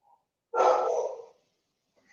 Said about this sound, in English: My roommate's dog is objecting to this game as well.